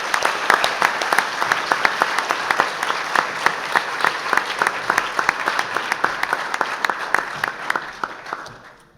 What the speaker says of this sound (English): I would like everyone to give a round of applause just to finish off our proceedings today.